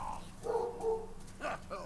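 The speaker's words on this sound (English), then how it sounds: "See, that is my dog." A pet dog gives a few short, fairly close barks, spaced out over a couple of seconds against a quiet room background.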